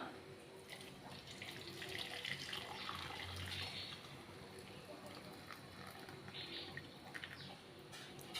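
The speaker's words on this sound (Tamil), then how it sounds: "நாட்டு சக்கரை நல்லா கரைஞ்சிருச்சு இப்போ நம்ம வந்து வடிகட்டி எடுத்துக்கலாம்" Dissolved palm jaggery syrup pours through a strainer in the kitchen, a continuous liquid trickle and splash that swells and eases over several seconds, with no talking.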